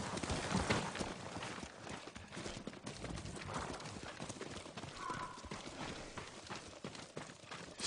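Horse hooves in Ghost of Tsushima clop steadily on the ground, fairly faint and muffled under a rustling outdoor game ambience.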